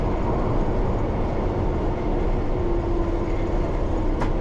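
A London Underground train slows as it brakes into a platform: a steady, loud rumble of wheels and motors with a faint rising brake whine near the end and no voices.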